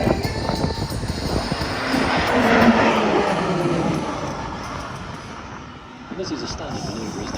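Aircraft formation flying inbound at the Avalon Airshow, Avalon Airport, Melbourne, Victoria: a broad roar swells to a peak midway, then slowly fades, with a commentator talking over it.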